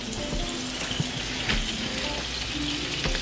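Several mini pancakes fry together in a home breakfast pan, giving a steady, close sizzle with faint scrapes and light clicks throughout and no talking.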